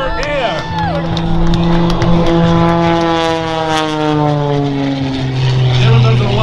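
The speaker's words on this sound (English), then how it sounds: "taking the airplane and tumbling it again over" A loud aerobatic propeller airplane tumbles at an airshow, its engine droning, rising and falling in pitch as it maneuvers nearby, with an announcer speaking over a crowd.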